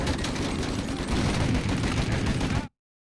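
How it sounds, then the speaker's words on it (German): Dense, continuous gunfire fills a shootout in the video game Mafia, loud and sustained for under three seconds before cutting off abruptly. "Aber ich kann doch nicht schießen, wenn er auf mich schießt"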